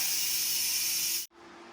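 Steam hisses loudly and steadily from the pressure release valve of a cooker while sinigang pork cooks, then cuts off abruptly and resumes more softly for a moment.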